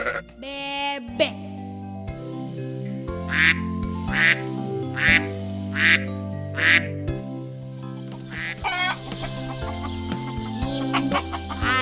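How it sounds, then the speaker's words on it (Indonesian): A duck quacks in short, regular bursts, clear and close, over a light musical backing, with a faster flurry of quacks near the end. "Bebek."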